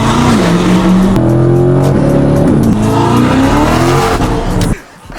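A C8 Corvette fitted with a new full exhaust system revs loud and close, the engine note rising and falling in sustained pulls before cutting off abruptly near the end.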